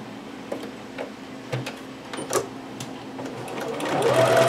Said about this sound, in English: I am going to sew right on top of that just to make sure.